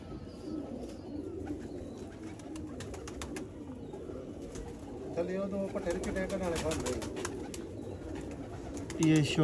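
Red-eyed pigeons of a rare fancy breed coo softly in a village near the India–Pakistan border around Sialkot, low throaty calls repeating amid a noisy outdoor background with a voice speaking over them.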